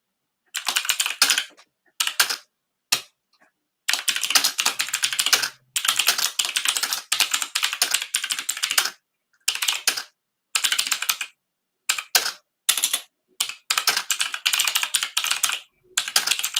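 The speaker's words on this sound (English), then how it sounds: "Noisiest keyboard in the world, but we'll bear with it." Loud, fast typing on a very noisy computer keyboard, clattering in dense bursts separated by short pauses, with no voices.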